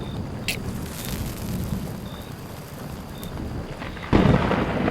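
Rain and thunder as a sound effect in a Bengali horror audio story: a steady rain hiss runs under a low rumble, and a louder thunder crash breaks in near the end.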